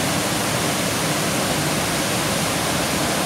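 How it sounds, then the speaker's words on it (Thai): Kaeng Sopha waterfall roaring as a dense, steady rush of falling water, loud and close, unbroken throughout with no voices. "น้ำตกแก่งโสภาครับงดงามไหมครับ"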